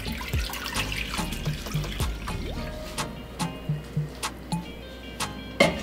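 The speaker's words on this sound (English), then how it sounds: "So I'm gonna start with 4 cups of water in our pot." Tap water runs into a cooking pot, about four cups for a Trinidadian callaloo with pigtail, starting as a steady stream and thinning to drips and small splashes near the end.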